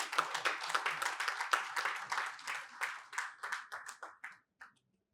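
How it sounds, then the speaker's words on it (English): Applause from a small lecture audience welcoming a speaker, a burst of clapping that continues steadily, then thins to scattered claps and stops. "Round of applause for her, please."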